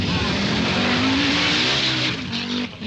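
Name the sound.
rally cars racing on slippery stage, Audi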